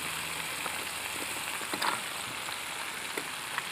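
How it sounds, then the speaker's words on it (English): Shellfish frying in a pan with paprika, root vegetables and onions, giving a steady, fairly quiet sizzle with a few brief crackles and pops throughout. "I still wanted to fry a little, and therefore I don't add the tomatoes or the apples"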